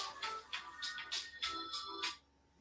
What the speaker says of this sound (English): the phone's ringing when I'm doing the show